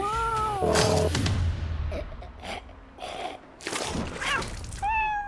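A cat meows several times, drawn-out and wavering, close to the microphone, with some rustling and clatter between the cries.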